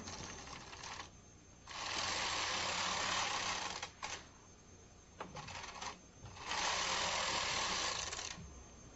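Knitting machine knitting two rows, two long whirring carriage passes with clicks and short pauses between them, close and fairly quiet with no talk.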